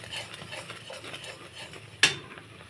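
Quiet, rhythmic scraping of a spoon stirring milk in a metal wok, then a single sharp clink.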